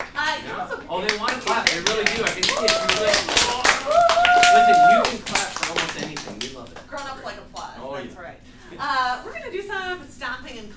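Rhythmic group clapping keeps a steady beat during a band recruitment performance, loud and close at first and then thinning out, with voices and some melodic sound over the claps.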